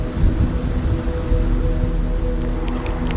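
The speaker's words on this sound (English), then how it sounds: "Okay, here comes some good rain." Heavy tropical rain from a supercell storm on a hurricane chase, a loud steady wash of noise with low rumbling underneath, continuous throughout.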